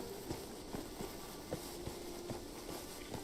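Steady clip-clop of a video-game horse's hooves at a trotting rhythm, moderately loud over a low continuous background hum.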